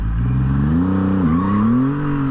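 A Triumph Rocket 3 motorcycle revs hard while its back tire spins, a loud, near engine drone climbing and dipping in pitch as the throttle is worked, with no talk over it.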